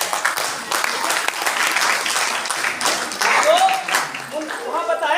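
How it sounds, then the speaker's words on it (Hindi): An audience claps through a Hindi sales seminar, a dense, moderate patter of hands running throughout with a voice speaking over it. "छोटा ताली बजाइए"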